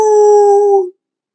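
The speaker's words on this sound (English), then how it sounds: "a howl of a panther scattered all but Boone" A panther's howl as a sound effect: one loud, sustained, tonal wail held for nearly a second before stopping abruptly into silence.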